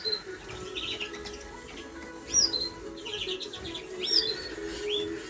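Canaries and finches, including cinnamon Greenfinch and cinnamon Canary mule pairs, chirp in a British bird aviary: a few sharp, bright calls and short twittering bursts stand out over a soft, steady background hum.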